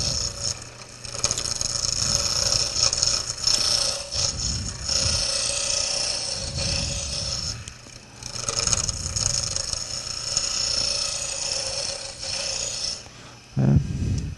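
Wooden gavel handle spinning on a lathe while a tool cuts a square blank toward round, a steady loud rough scraping and rumbling with brief dips and a short bump near the end, no talk.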